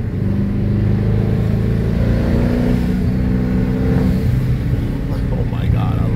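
Dodge Hellcat fitted with a 30-year-old transmission driving hard on back roads, a loud, steady engine drone with rising revs close inside the car, a voice briefly heard over it.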